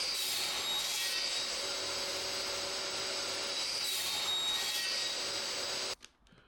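A saw blade runs through wood in one steady, loud cutting pass lasting about six seconds, with a whining edge, then cuts off abruptly into near silence.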